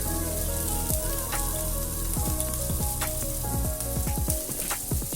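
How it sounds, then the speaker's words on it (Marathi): Cooked cluster beans (gavar) being sautéed in a pan, a steady sizzle broken by scraping and knocking of a spatula against the pan, close and without speech. "आता आपण त्याच्यामध्ये शिजलेली गवार घालूया छान परतून घ्यायची आहे"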